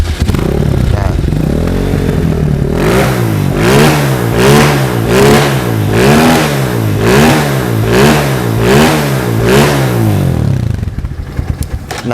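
A Diablo Fase 7 prototype engine fitted with its standard exhaust idles, then is revved up and down about seven times in a steady rhythm, each rev swelling and falling back, loud and close with no talking.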